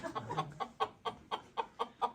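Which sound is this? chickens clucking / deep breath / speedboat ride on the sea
chickens clucking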